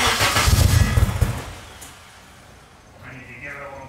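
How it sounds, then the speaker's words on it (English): A K24-swapped Nissan Cefiro cranks and fires up with a loud burst of rough engine noise, then settles into a quieter uneven idle with a rising whine near the end. "All right, let's fire her off."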